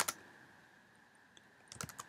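Short bursts of computer keyboard typing as a search is entered into Google: one click at the start, then a quick run of several keystrokes near the end, quiet and close with no talking.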